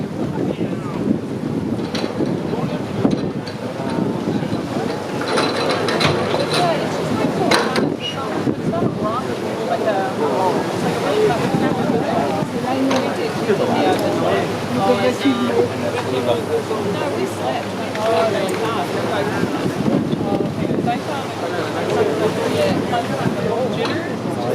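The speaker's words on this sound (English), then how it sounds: "The captain is currently trying to bring the boat up close so he can put the gangplank across." A boat manoeuvres close to a dock at Cinque Terre, with a steady engine and water churn under wind buffeting on the microphone, while people talk over it.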